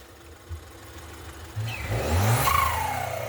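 Ford Fusion EcoBoost car engine revving, building from a low rumble into a loud rising whoosh with a turbo whistle and flutter near the end, close and alone.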